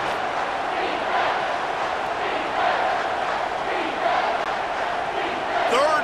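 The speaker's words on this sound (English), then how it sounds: "this crowd will blow out a vocal cord to help this defense" A stadium crowd in an EA College Football 25 simulation of Alabama vs. LSU roars steadily and loudly, a dense sustained wall of cheering that swells slightly in waves across the whole stretch.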